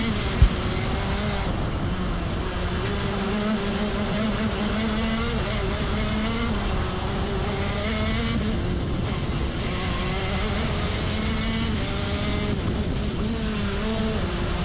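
Racing karts lap the Forest Edge track, one kart's engine close and loud, droning steadily and rising and falling in pitch through corners and straights for the whole stretch, with no talk.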